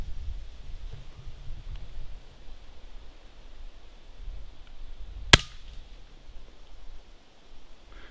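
A Daisy Powerline Model 35 pump air gun fires a single sharp, close crack midway through, otherwise only faint background noise and low rustling; no talking.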